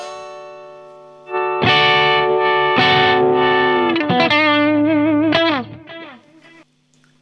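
A Squier Classic Vibe Telecaster electric guitar played with the tone knob swept for a wah effect, sustained notes sliding and swelling in brightness, loud and close, then fading out.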